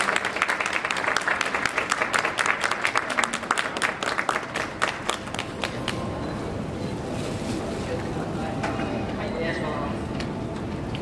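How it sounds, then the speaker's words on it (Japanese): At the Vegalta Sendai football club's pre-camp send-off ceremony, a crowd breaks into lively clapping during a bouquet presentation, then the applause thins and fades into a soft, airy hall ambience. "どうぞ大きな拍手をお願いいたします"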